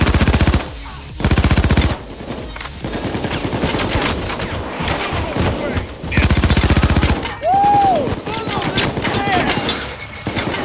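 Automatic gunfire in the heist video game Payday 2, several loud sustained bursts of rapid shots separated by quieter game noise, with a voice talking in between.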